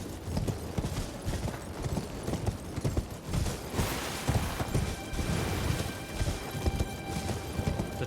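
Horse hooves gallop in steady rapid clip-clop rhythm while riding in the video game Elden Ring, close and continuous for the whole stretch, with no talk over it.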